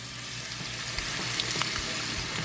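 A ribeye steak searing in a hot pan, a dense steady sizzle with small pops and crackles, close and constant, with no speech over it.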